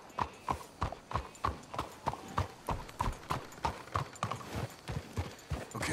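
Horses' hooves clip-clop in a steady, quick rhythm across the whole stretch in the video game Red Dead Redemption 2, close and clear, with no talk over them.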